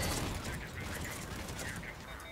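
Gunfire from the M7 Lancer assault rifle in Mass Effect 3 multiplayer, a dense continuous burst of rapid shots running the whole time with no gaps, loud and close.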